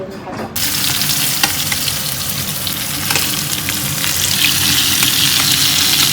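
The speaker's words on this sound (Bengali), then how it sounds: "এখানে হচ্ছে ইলিশ মাছ ভাজা" Hilsa fish fries in a pan, giving a loud continuous close sizzle with crackling spatters that start abruptly and stay dense throughout, with no talking.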